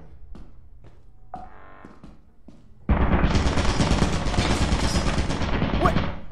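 A Lethal Company turret opens fire in a sudden loud, sustained burst of rapid shots after a few scattered thumps.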